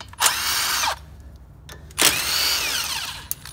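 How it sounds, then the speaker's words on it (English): Power tool spinning out bolts with a 10mm socket on the suspension of a 2014-2018 Chevrolet Silverado during upper control arm work, two loud close whirring bursts separated by a short pause. "Using a 10mm socket, we're going to remove two bolts."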